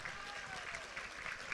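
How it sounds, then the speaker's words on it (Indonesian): A crowd at an Islamic religious sermon claps in a faint, distant wash of applause with a constant hiss, murky and low in level, while a voice lingers underneath. "Tepuk tangan untuk NU."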